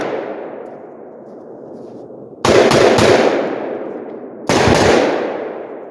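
A Davidson Defense AR-47 rifle with a 7.5-inch barrel fires 7.62x39 rounds: a sharp rapid burst of several loud shots, then a second burst, each followed by a long fading echo.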